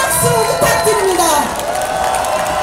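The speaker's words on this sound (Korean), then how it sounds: "뜨거운 박수 부탁드립니다." A large crowd at a candlelight rally anniversary event breaks into loud, sustained applause and cheering, continuous and close, with shouts mixed into the clapping.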